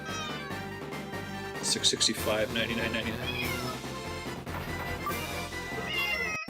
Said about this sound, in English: Can you guys hear the kitties?